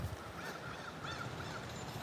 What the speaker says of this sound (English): Hear the crows? Y'all hear the crows?